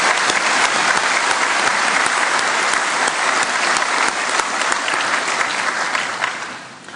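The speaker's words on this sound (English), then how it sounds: "So maybe we can give him a round of applause." Sustained applause from the audience at a college conferring ceremony: a thick, even wash of many hands clapping that holds steady before tapering off near the end.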